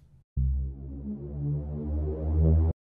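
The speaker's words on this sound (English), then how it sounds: "let's bring in that riser, the audio clip" A synthesized riser sound effect in FL Studio swells upward in pitch for about two seconds, thick with mid-range harmonics, and cuts off sharply, preceded by a short faint blip.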